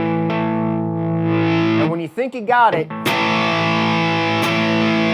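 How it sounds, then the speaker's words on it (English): An electric guitar played with distortion: a sustained, buzzing power chord rings out, then a run of picked notes, then the chord rings again, with someone speaking briefly over the guitar. "turn your distortion on, get that chord down, play one note at a time"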